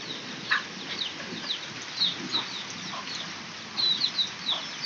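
Hens and chickens in a rainy farmyard, with short clucks and chirpy calls scattered over a steady wash of rainfall, the birds fairly close and calling in brief bursts.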